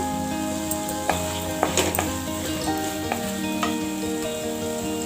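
Tomatoes and potatoes frying in a pan for a pumpkin flower besara dish: a continuous sizzle with scattered crackles and a few sharper pops from stirring, close and steady, with no voices.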